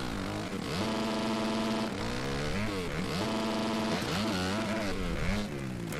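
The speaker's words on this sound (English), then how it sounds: "As soon as you get in the air, grab it and rev up your bike." Motorcycle engine in the MX vs ATV Alive racing game revving hard and steadily, with pitch sweeping up and down in repeated surges as the bike hangs mid-air, loud and continuous throughout.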